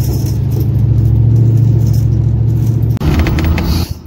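Chevrolet El Camino SS with an L83 V8 engine swap pulling hard under acceleration, a loud, steady low engine drone near and alone that breaks off abruptly before a rougher burst with rattling.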